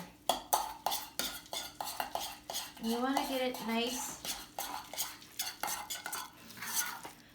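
A spoon scrapes and clinks steadily against a bowl as a seasoned, salted mixture for jumokbap is stirred into a paste, with a soft voice speaking briefly partway through.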